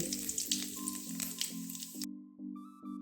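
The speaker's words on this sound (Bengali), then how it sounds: "সর্ষের তেল গরম হওয়া মাত্রই দিয়ে দিলাম একটা তেজপাতা আর একটুখানি জিরে" Bay leaf and cumin seeds hitting hot mustard oil, giving a loud, dense sizzle for about two seconds that then cuts out, leaving only faint clicks and a few brief tonal beeps.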